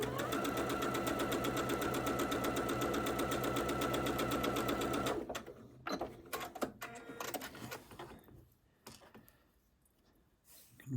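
A sewing machine stitches a quilt block in a steady, fast mechanical whir for about five seconds. It then stops, and sparse clicks and handling sounds follow as the fabric is adjusted.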